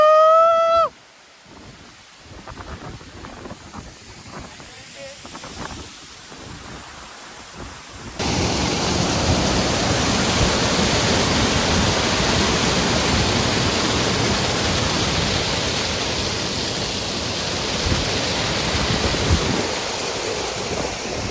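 Montmorency Falls roars in a steady, loud broadband rush of falling water, opening with a brief tonal sound and quieter spray before the full torrent swells up close and continues unbroken without speech.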